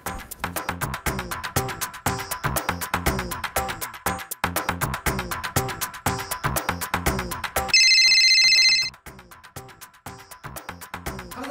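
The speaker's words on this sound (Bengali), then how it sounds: "এখানে কোথাও ফোন বাজতেছে।" A telephone rings in one short, bright burst lasting about a second, heard within a household drama scene over a steady, rhythmic background clatter.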